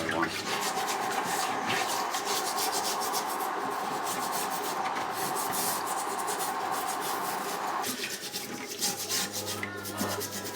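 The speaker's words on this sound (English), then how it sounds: "He's just finishing off cleaning the racks" BBQ grill racks scrubbed by hand with the Pink Stuff cleaning paste, a steady, loud, continuous rubbing and abrasive scraping close up, with brief shifts in stroke near the end.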